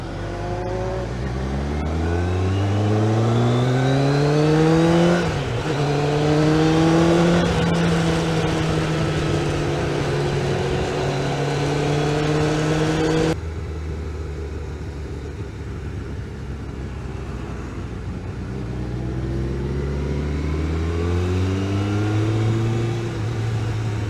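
Motorcycles set off in a batch on a charity bike run, engines revving up and rising in pitch one after another, loud and close, then fading as fresh bikes pull away.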